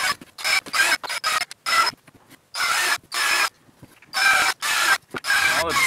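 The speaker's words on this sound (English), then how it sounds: "Now that the surfaces are rasped off and the holes are actually drilled" Wooden climbing holds being rasped for a home wall, heard as loud, close bursts of coarse scraping strokes in an irregular rhythm with short pauses between passes, no voices.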